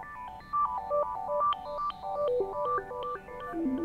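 A Reason Europa synthesizer patch plays a quick melodic run built on a three-step waveform jumping through octaves, with bright bleepy tones stepping up and down steadily throughout.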